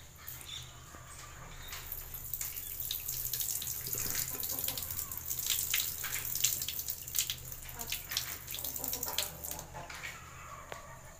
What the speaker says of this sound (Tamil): இப்போ இதில் இருக்கிற தண்ணியவை லைட்டாக வடிகட்டிடலாம்.